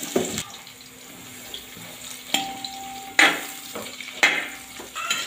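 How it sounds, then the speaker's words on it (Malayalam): Cauliflower sautéing in vegetable oil in a pot while making aloo gobi, with soft sizzling and stirring scrapes, a few louder clatters of a utensil against the pot, close by with no talking. "നമുക്ക് ഇനി കോളിഫ്ലവർ ഇട്ട് വാട്ടിയെടുക്കാം."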